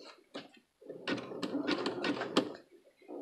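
A sewing machine fitted with a presser foot runs through fabric on a longer stitch setting, in short bursts of close, rapid stitching separated by brief pauses.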